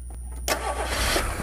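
An engine with its top end and valve train exposed cranks briefly, then catches and settles into a steady, close running roar, set up for a sand test.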